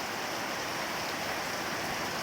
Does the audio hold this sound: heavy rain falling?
yes